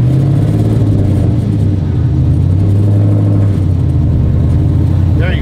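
A sequential burnout truck's engine rumbles loud and close, its revs rising and holding as the driver gives it gas, with a steady throaty drone throughout.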